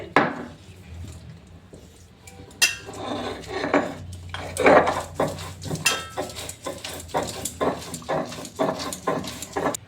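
Soaked lentils are ground by hand into a fine paste, giving rhythmic knocking and scraping strokes on a hard grinding surface that speed into a steady repeated beat, close and fairly loud with no talking.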